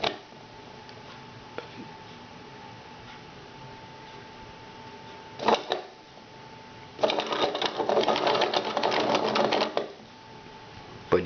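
A small motor powered by a 9-volt battery runs inside a homemade decoy, making a steady faint whir with a couple of sharp knocks, then a louder rattling, buzzing stretch as it wobbles and flips around.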